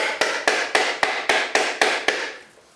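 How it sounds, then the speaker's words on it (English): A ball peen hammer beating a shell to crack it and loosen the meat, eight evenly spaced sharp knocks in quick succession, close and loud with no talking. "And a ball peen hammer is a pretty good hammer for this."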